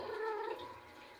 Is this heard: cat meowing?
yes